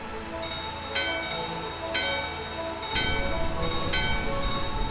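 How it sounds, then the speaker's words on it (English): A bell rings repeatedly in Final Fantasy IX, bright metallic strikes about once a second over a low rumbling background, loud and close. "Oh, ring the bell!"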